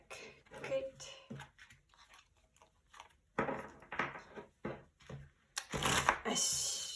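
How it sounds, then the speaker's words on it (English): A new deck of tarot cards is shuffled close by in irregular bursts of riffling and tapping, quiet at first and louder toward the end, with short gaps between bursts. "Let me shuffle the deck."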